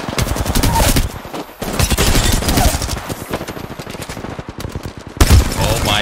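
A video game shooter fires in rapid bursts of dense, loud gunfire that rattle almost continuously, with brief pauses and a sharp burst near the end.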